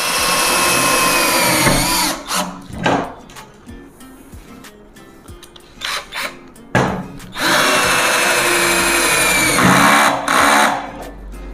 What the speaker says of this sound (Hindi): सेल्फ ड्रिलिंग स्क्रू थोड़े से मार के और खोल के चेक कर लेंगे